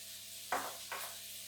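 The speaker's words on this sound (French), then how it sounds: "Donc je mets les échalotes et le persil dans la margarine." Shallots and parsley hit hot margarine in a pan with two quick bursts of sizzling, the second softer, each fading into a low hiss.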